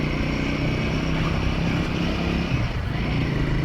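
A Royal Enfield Himalayan 450 motorcycle being ridden gives a steady, close engine drone with a low rumble and wind noise throughout, with no talk.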